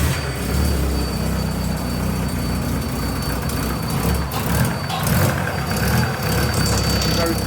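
An Alfa Romeo 155 engine runs poorly in a workshop, giving a loud, continuous rough rumble with uneven low-end pulsing and a faint steady whine above it, voices murmuring faintly underneath.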